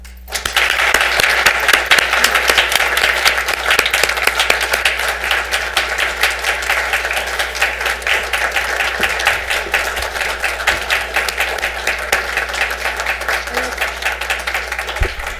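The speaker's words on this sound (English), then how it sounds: "join me in a warm round of applause to recognize and honor our outgoing governing board member" Warm round of applause from an audience at a school governing board meeting, honoring an outgoing board member; dense, even clapping begins abruptly and carries on loudly and steadily for about fifteen seconds.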